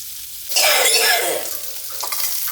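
Sardines and kana fish fry in a pan, with a burst of loud sizzling and spattering as the fish is stirred or turned, then settling into a steadier hiss with scattered pops.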